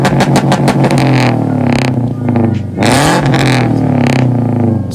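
A loud modified car engine revs repeatedly in sharp bursts, each blip rising and falling with crackling exhaust pops between, close and dominant with no talk.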